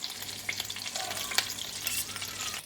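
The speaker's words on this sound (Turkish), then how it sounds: "Şimdi biberlerimizi de atıyoruz." Peppers frying in tail fat in a pan where meatballs were just fried, a continuous crackling sizzle with scattered sharper pops and some stirring, no voices.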